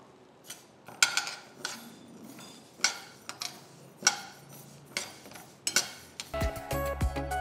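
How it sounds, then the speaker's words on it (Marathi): Millet grains being dry-roasted in a pan for an instant upma mix, heard as a series of sharp metallic scrapes and clinks at a steady, irregular rhythm, close and fairly quiet, with a denser clatter of grains and utensil near the end. "बाजरी आपण भाजून घेऊ"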